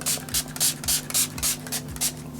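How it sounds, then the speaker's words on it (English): A strawberry setting spray by Gerard Cosmetics hisses out in about eight quick, evenly spaced pumps, close and crisp, with no talk over it. "Gerard Cosmetics for the win today, and she has all kinds of setting sprays"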